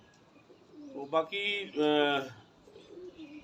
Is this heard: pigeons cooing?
yes